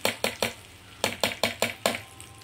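Tempering poured from a ladle into gongura chutney, heard as a series of about eight sharp sizzling bursts in an uneven rhythm, close and fairly quiet.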